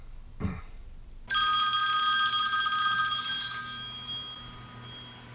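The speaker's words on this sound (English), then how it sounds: "It's ringing." A telephone bell rings loudly and close, one bright jangling ring lasting a few seconds before fading, after a brief knock.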